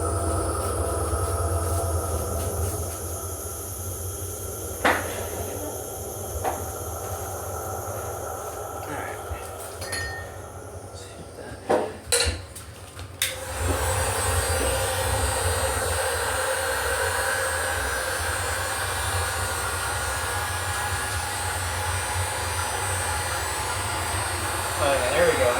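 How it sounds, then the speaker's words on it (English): Steady, loud heat gun blowing air over Lichtenberg-burned wood art, a continuous broadband roar with a few brief clicks and knocks partway through as it shifts. "we are about ready for another shot of heat gun"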